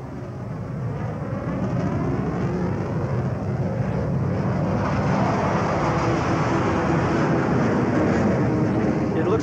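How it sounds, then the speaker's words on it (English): Israeli Air Force jet planes roar low overhead in a steady, loud, continuous rumble that builds slightly and never fades; the sound comes from an old VHS film soundtrack. "It looks like the Israeli Air Force never sleeps. those are not our planes."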